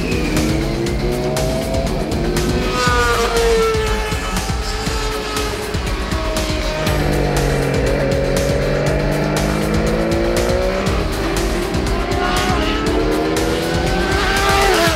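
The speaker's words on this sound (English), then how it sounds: "our first bike to ride today is the Triumph Triple Challenge TTC bike from T3 Racing" Triumph Triple Challenge race motorcycle from T3 Racing, near stock, lapping a track: a loud, close engine howl rising and falling through gear changes and revs, continuous throughout.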